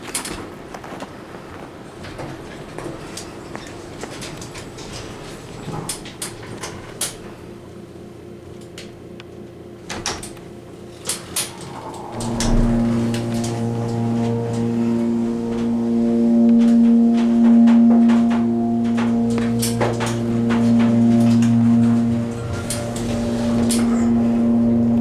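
Ride in a Schindler 330A hydraulic elevator at a hotel: quiet machinery and faint clunks, then from midway a loud steady motor hum with a sustained drone as the car travels.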